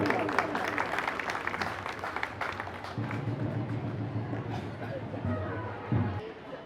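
An audience at a Jain community religious gathering claps in a moderate burst that fades out, while someone speaks over and after it.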